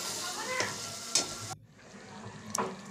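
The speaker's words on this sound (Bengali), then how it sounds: "ওপরে একটু ধনে গুঁড়ো আর একটু জিরে গুঁড়ো দিয়ে একটু নেড়ে নেব।" Spices in hot oil for masala paneer (coriander and cumin powder, turmeric, salt and torn green chillies) sizzle steadily in a pan as they are stirred, with scraping strokes over the frying hiss.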